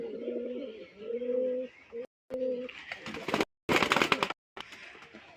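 White pigeon with a black beak cooing up close, several soft repeated coos in the first half, followed by rustling and a voice speaking.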